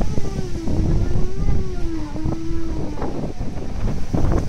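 Strong wind buffets a 3D printed wind turbine outdoors, roaring loudly and continuously, with a faint rising-and-falling whine from the spinning blades.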